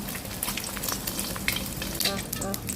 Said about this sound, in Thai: ทอดไข่ขาวก่อน